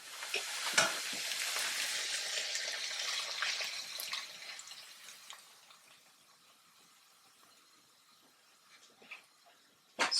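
Paprika tadka poured over moong masoor dal sets off a loud, bright sizzle that fades over several seconds, followed by a few small clinks.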